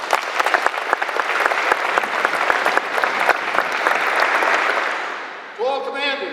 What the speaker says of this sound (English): one more round of applause for the Honor Guard.